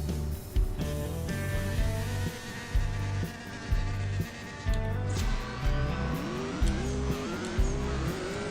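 A 2006 Heritage GT race car in the mobile racing game CSR2, its engine revving up repeatedly through rapid gear changes, with rising whines and short drops between shifts.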